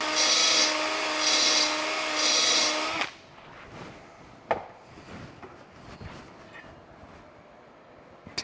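Dingle ball hone working inside a seized Kawasaki engine cylinder held in a vise, a loud steady high-pitched abrasive whirr for about three seconds that cuts off abruptly, leaving faint clinks and handling noises.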